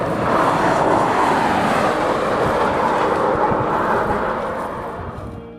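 Steady rushing wind and air noise inside the Rimac Concept One electric car at speed, a broad continuous roar that holds constant and fades slightly toward the end, with no speech.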